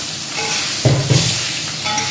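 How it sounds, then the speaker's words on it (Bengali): Potatoes frying in a pan after fish were fried in it, giving a loud, steady sizzle with a couple of brief stirring scrapes and clinks. "আলুগুলো ভাজা ভাজা হবে"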